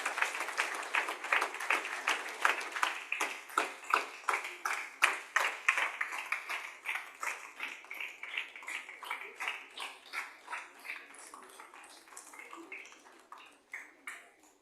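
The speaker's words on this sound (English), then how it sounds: "Ladies and gentlemen, big round of applause" Audience applause fills a lobby during a Founder's Day celebration, a dense run of many hands clapping that stays loud, then thins into scattered, separate claps toward the end.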